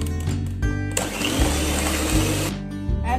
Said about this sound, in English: we are going to add 1 egg and we are going to mix this again